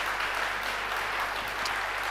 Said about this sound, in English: nice round of applause from the crowd